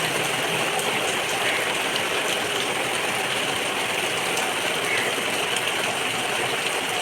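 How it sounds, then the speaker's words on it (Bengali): Steady, even hiss of rain falling outside, continuous and unchanging throughout with no voices. "বাইরে বৃষ্টি হচ্ছে"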